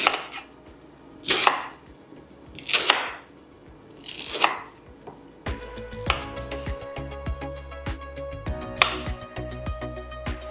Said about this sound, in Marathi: ती केळं आहेत ना ती छान कापून लगेच टाकू.